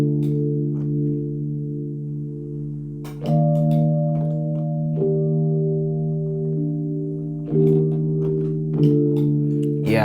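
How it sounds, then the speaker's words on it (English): Sustained electric piano chords played with stock sounds in GarageBand for iOS, alternating between two chord shapes with a few changes over ten seconds, clear and steady with no talking. "the electric piano sounds like this."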